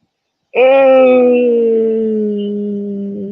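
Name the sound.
dogs howling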